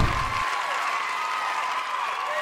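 Audience applause on a game show, a dense steady clatter of clapping at a studio taping that continues evenly and loudly for the whole stretch.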